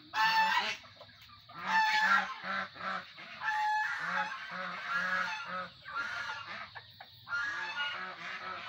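Farmyard ducks honking and squawking in repeated loud, nasal bursts close by, overlapping calls with short gaps between them.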